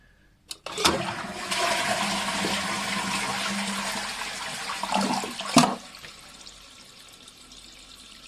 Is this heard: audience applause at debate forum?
no